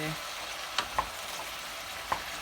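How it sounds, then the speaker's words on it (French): Vegetables for a vegetarian stew sizzle in a pot over medium-high heat, with a steady frying hiss punctuated by a few sharp spoon clinks as they are stirred. "On fait cuire ça à feu moyen vif."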